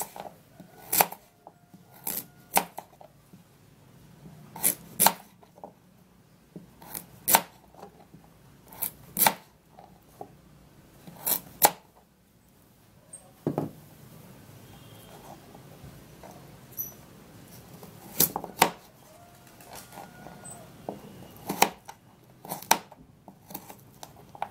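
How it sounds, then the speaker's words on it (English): A knife chops carrots into small pieces on a board, giving sharp, close, irregular thuds in short bursts separated by quiet pauses. "I'm gonna be cutting the carrots in pieces"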